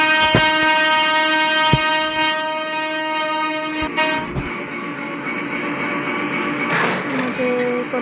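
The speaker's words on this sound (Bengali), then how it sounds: "আমরা লম্বা হর্ন দিয়ে স্টেশন ত্যাগ করি" A long train horn sounds in a train simulator game as the Karnaphuli Express leaves a station, several steady tones sustained for most of the clip over a constant rumble of the train.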